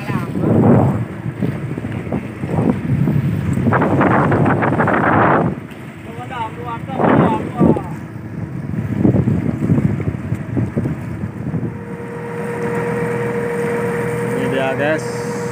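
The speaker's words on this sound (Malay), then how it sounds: "Laut sedang tidak baik-baik saja sayang. Angin." Strong wind buffets a fishing boat on a rough sea, with roaring gusts and rumbling microphone noise in uneven surges and a steady engine hum beneath, while people talk over it.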